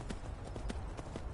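Horse hooves clip-clop in Skyrim, a steady even patter of light hoof strikes at a walking pace, moderately quiet and continuous with no talking.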